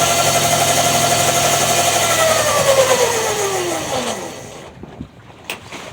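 A 3000W 72V brushless motor hums loudly at around 5,400 RPM with a steady electric whine, then the pitch slides down as it spins down and fades, leaving faint clicks at the end.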